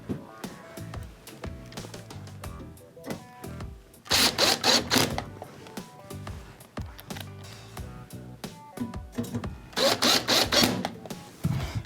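Phillips screws being driven back into a Whirlpool oven console, a run of small clicking, ratcheting mechanical taps with two denser, louder bursts of rattling, close and without speech.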